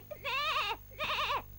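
A cartoon goat bleats twice in long, wavering, quavering cries, close and clear, with a short pause between them.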